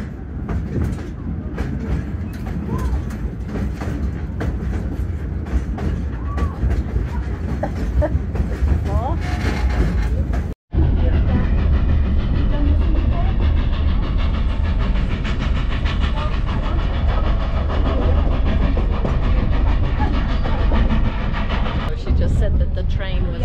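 A Cumbres & Toltec Scenic Railroad train with a 99-year-old engine rumbles steadily along the rails with a loud, continuous mechanical roar, briefly cut off midway, then resuming; a voice is faintly present.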